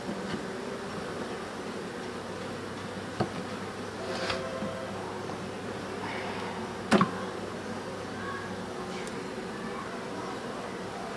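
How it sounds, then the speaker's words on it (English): Honey bees buzz faintly and steadily at an open hive while a super is being added, a soft continuous hum with a few light knocks and clicks. "Here are all the bees"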